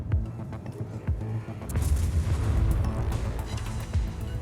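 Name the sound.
warship main gun salvo in World of Warships video game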